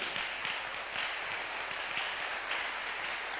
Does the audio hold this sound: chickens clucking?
no